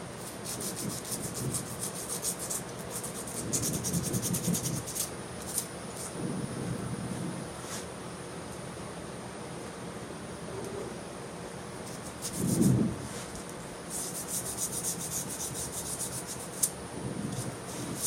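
Sandpaper rubs against wood spinning on a lathe while the work moves through successive grits, a soft continuous scratchy hiss with faint swelling strokes and one louder brief scrape, no talking.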